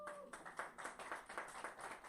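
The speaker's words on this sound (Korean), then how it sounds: "딩동댕 박수" Brief burst of hand clapping from a small group at a Korean church talk, a quick run of claps for a correct quiz answer, fairly close and moderately loud.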